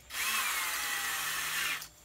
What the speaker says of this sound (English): Put this part in your drill, and the stones go into the cylinder.